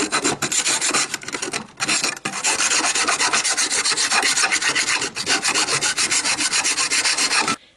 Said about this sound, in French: Un petit peu d'ébavurage.